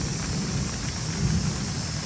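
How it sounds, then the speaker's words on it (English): Thunder rumbles loud and close during a storm, a continuous low roll layered with the steady hiss of rain. "thundering"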